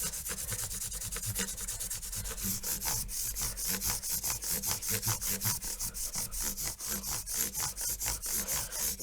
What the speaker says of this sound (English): Next thing we'll do is we'll come through with the micro polishing pads.